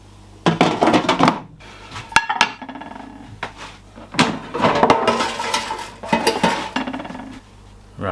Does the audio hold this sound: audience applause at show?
no